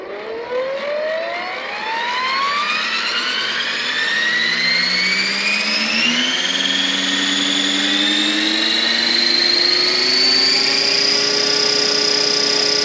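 A small RC scale Bell Huey model helicopter's motor whines steadily upward in pitch as it spools up and flies, loud and close, with no talking.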